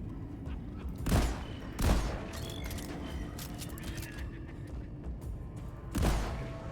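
Shotgun blasts in the video game Deep Rock Galactic, three sharp booming shots spaced irregularly over a busy background of game noise and mechanical clatter.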